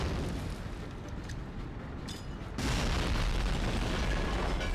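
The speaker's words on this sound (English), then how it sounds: "Can I blow up the tank with grenades?" A grenade explosion blows up a tank in the video game Medal of Honor: Frontline, heard as a dense, rumbling roar that swells suddenly into a louder, heavier blast partway through, with no talking.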